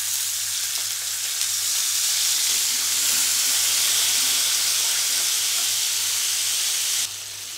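A loud, continuous steamy hiss and sizzle as water is added to a hot oil tempering over low heat, holding for several seconds before easing slightly.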